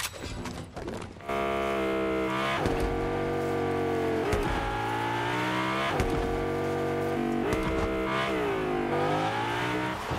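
Rocket League cars rev steadily at high pitch, engine tones rising and dipping in repeated sweeps, loud and close with no voices, following a brief quieter opening.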